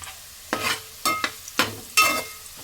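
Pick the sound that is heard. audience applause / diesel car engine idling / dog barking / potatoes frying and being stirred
potatoes frying and being stirred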